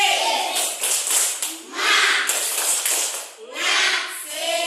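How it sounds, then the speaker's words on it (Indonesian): A school class performs a rhythmic spirit clap, bursts of quick patterned clapping and tapping alternating with children and a teacher chanting and calling out. "Iya, tepuk semangat."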